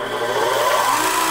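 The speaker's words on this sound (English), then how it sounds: "We'll first start the spindle." A high-speed inside tool post grinder spindle on a lathe spins up with a steady mid-pitched whir and a rising tone, close by and continuous with no talking.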